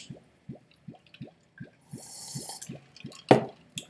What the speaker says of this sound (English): Let me just preemptively suck up some water.